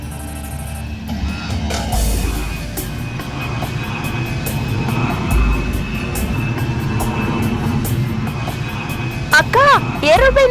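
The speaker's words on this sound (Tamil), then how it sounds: "ஏரோப்ளேன் போகுது" A fixed-wing airplane passes overhead at night, a steady broad engine rumble filling the whole stretch beneath a quiet indoor scene, with occasional voices and a few sharp sounds near the end.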